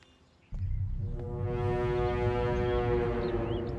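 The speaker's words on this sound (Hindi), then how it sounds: "घर के सामने आकर हॉर्न बजा रहा है" A car horn blares in front of a house, with one long, loud, sustained honk that starts abruptly and holds without a break.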